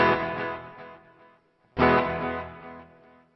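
Electric guitar played through a NuX Atlantic delay and reverb pedal in parallel mode, two distorted chords each struck loud and left to ring out with a smooth decaying tail, separated by a short silence.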